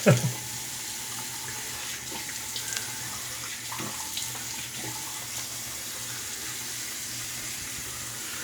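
Water runs steadily from a bathroom tap as a man wets his face for shaving, a constant close splashing stream with faint handling taps, following a brief knock at the start.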